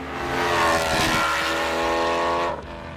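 A fast collectible car accelerates along the winding coastal Clarence Drive near Cape Town, its engine loud and close as it climbs through the revs, then the sound cuts away abruptly near the end.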